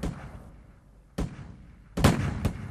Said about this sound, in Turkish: Silah sesleri gün boyu yankılandı durdu dağlarda